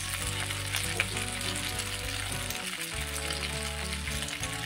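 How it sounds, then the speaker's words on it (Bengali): Masala pasta fries in a pan as tomato sauce goes in, giving a steady close sizzle and crackle with soft stirring underneath and no voices. "তো এবার দিয়ে দেব আমি টমেটো সস।"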